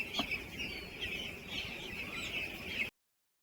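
Broiler chickens on a farm cluck in a continuous, crowded chorus during hot weather, a steady mass of close calls that cuts off abruptly.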